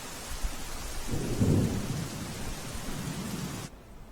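Heavy rain pours down over Ahmedabad, a steady hiss with a low rumble of thunder swelling midway before the sound drops away abruptly near the end.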